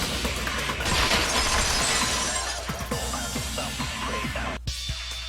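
A vase breaks and shatters, a loud initial crash followed by a long scatter of tinkling shards and small clinks settling, then a brief pause and a few faint final rattles.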